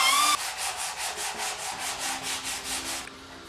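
Close, even hand sanding of body filler on an Allis Chalmers 310 tractor: about a dozen rhythmic back-and-forth scraping strokes of abrasive paper rubbing over a hard surface.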